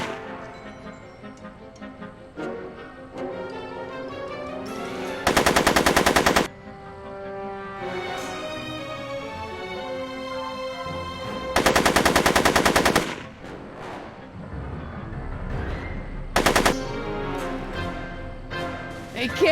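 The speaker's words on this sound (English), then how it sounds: "Are you shooting at me?" Rapid machine-gun bursts in the Back to the Future video game, three loud sustained volleys separated by tonal game music and effects, with brief voice sounds between.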